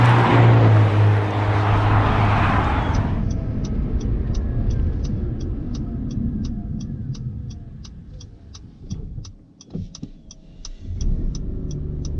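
An Acura NSX with a titanium dual mode exhaust and active valves, in quiet mode, gives a low steady rumble that softens after a few seconds; a regular faint ticking follows, with some brief thumps near the end.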